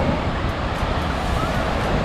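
Strong ocean surf rolls in at a Boracay beach during a storm, a dense continuous roar of breaking waves mixed with heavy wind buffeting the microphone.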